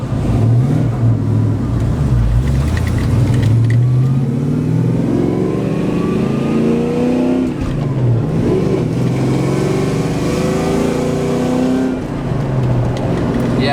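A supercharged two-valve Ford Mustang V8 making roughly 700 horsepower revs hard, its engine note climbing and falling in long sweeps with blower whine over the top, loud and close with no talking.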